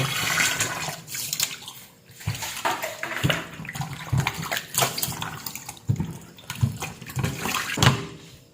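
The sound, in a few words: washing raw pork under running water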